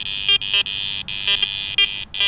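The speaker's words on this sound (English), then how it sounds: "I can hear my iron audio with that suppressed iron volume in the background" An Apex metal detector sweeping a nail test board gives a steady electronic tone broken by short higher beeps and brief dropouts, loud and close.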